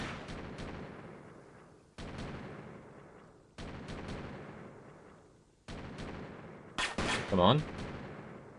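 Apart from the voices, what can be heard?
artillery strike from a fire mission in the video game Delta Force 2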